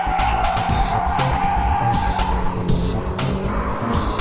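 Braking drift in the game GTA San Andreas: loud tire squeal and skidding over a steady engine roar, continuous for several seconds with no voices.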